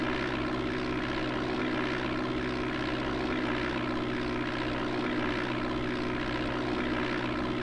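Steady propeller-airplane engine drone from the DOS game Flight Simulator 5.1, a constant buzzing hum on approach to Chicago O'Hare with the gear and flaps down, with no voices over it.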